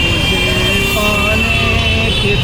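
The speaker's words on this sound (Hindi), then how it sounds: "देखिए बाहर ट्रैफिक का बहुत ज़्यादा शोर है" Busy street traffic outside in Varanasi makes a dense, steady roar of engines and road noise, with faint horn-like tones threading through the constant din.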